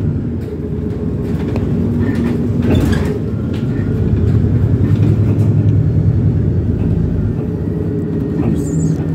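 A suburban train at Bois-Colombes station near Paris makes a steady, loud rumble with a low mechanical drone running throughout. Faint squeaks and rattles of the carriages rise over the continuous noise.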